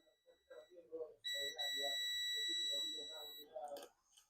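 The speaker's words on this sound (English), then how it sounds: "This is beeping." A steady high electronic beep sounds for about two seconds while probing a MOSFET on a Dell Inspiron 15 3542 laptop board that won't power on, a clear multi-tone whine loud over a voice talking before, during and after it.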